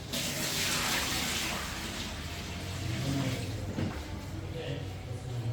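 Rice is washed under a steady stream of running tap water for matar pulao, a continuous loud splashing gush with faint talk underneath.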